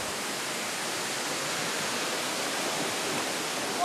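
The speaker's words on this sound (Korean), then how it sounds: "폭포 소리가 아주 시원한데요" A waterfall roars in a continuous, even hiss of falling water, close and steady throughout with no voices.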